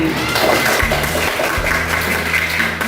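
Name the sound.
classroom applause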